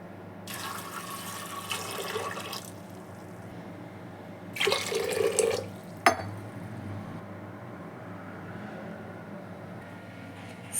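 Water runs from a tap into a pressure cooker holding vegetables in two separate streams of a few seconds each, then one sharp clink. Faint room noise fills the gaps, and no one speaks.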